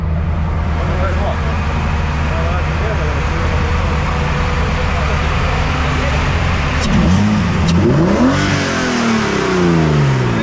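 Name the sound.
rally car engine revving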